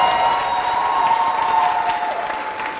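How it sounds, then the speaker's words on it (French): TV studio audience applauding and cheering on a French-language variety show set, a steady dense wash of clapping with crowd noise and a sustained tone running underneath, loud and continuous throughout. "on va s'applaudir très fort"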